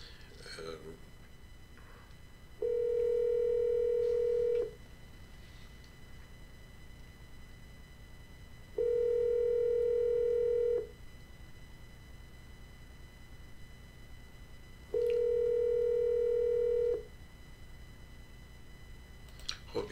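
An unanswered telephone rings three times at even intervals, each a steady electronic tone of about two seconds followed by a pause of roughly four seconds, heard clearly over a faint hiss with no talking.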